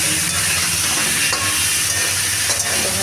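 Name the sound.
stirring turmeric-spiced potatoes frying in a pan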